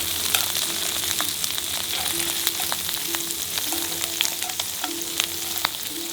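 Shrimp fry in a pan with a loud, continuous sizzle and sputter, broken now and then by sharp crackling pops. No voices are heard.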